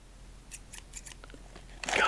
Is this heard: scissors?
yes